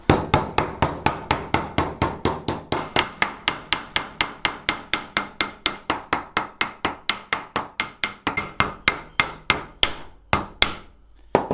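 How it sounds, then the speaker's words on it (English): Steady, rapid hammer blows on metal parts for a rusty guitar build, dozens of sharp close strikes in an even rhythm that slows and stops near the end, with no talking. "now we're just going to hit stuff with a hammer for a while."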